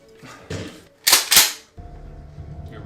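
Shotgun blasts in a video game, two sharp loud bursts in quick succession near the middle, then quiet background game ambience.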